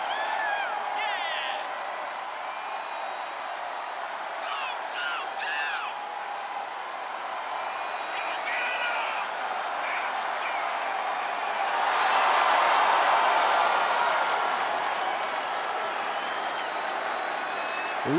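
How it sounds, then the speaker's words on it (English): A wrestling arena crowd at a WWE Hell in a Cell event gives Bianca Belair a sustained ovation, with steady applause and cheering throughout that swells louder near the end. Commentary is heard over the noise. "Listen to this ovation"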